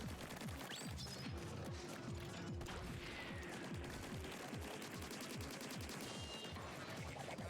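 Rapid, dense gunfire from Splatoon 3 weapons rattles on without pause, a busy stream of sharp shots and impacts layered over constant game noise with no voices.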